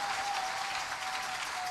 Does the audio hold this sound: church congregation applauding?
yes